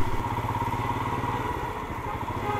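Royal Enfield Himalayan BS6 motorcycle engine running steadily on a solo ride from Kolkata to Darjeeling, a continuous low throbbing rumble, close and fairly loud throughout with no talking.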